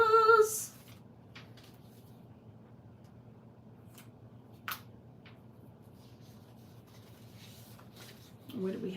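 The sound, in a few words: coloured pencil on paper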